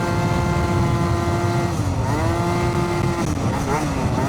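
A Yamaha BWS 70 scooter with a Stage6 kit revs high, its small two-stroke engine holding a loud, buzzing whine that dips and climbs again, close by, with a voice talking over it.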